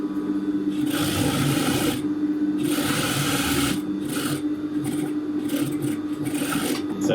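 A sewing machine stitching a wrap dress at a short stitch length runs in loud, close bursts of fast mechanical whirring, pausing briefly between runs, with no talk.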